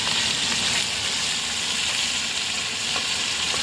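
Chicken frying in a pan with ginger garlic paste, a steady loud close sizzle with a constant hiss throughout and no talking.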